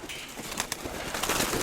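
A pigeon's soft, low cooing, a few short throaty notes close by over light background noise.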